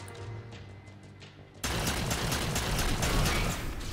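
Sudden loud, sustained weapon fire from the Halo 4 shooter game cuts in after a quieter hum, continuing as a dense roaring burst to the end.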